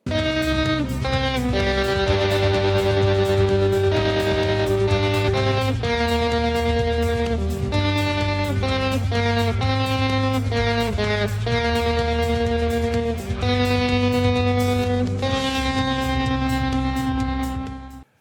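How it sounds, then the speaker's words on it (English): Guitar chords through a Spark amp pulse with a hard, choppy square-wave tremolo, the sound cut into sharp rapid slices over a steady, loud musical line. "this is a hard, sharp square wave chop"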